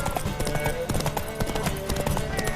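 Rapid galloping hoofbeats from a horse in The Witcher 3 pound out an even, driving rhythm, close and steady throughout, with faint ambient game sound beneath.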